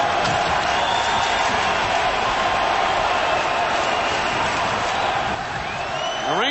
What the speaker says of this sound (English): The Ranger crowd enjoying it here.